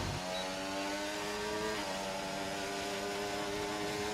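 Race car engine in a racing video game, holding a steady high-pitched drone with harmonic whine as the throttle skips and stutters through a corner, loud and continuous with no talk.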